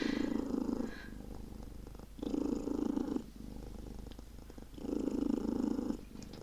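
A cat named Tetley purrs close up and soft, in three long rumbling bursts on the in-breaths, with quieter pauses between them and no talk.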